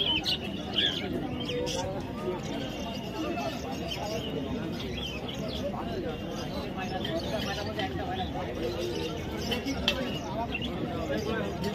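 Birds chirp and coo at a crowded early-morning bird market in Mahishadal, held yearly on Rath Yatra day after rain, their calls scattered through a dense, steady murmur of people and bustle.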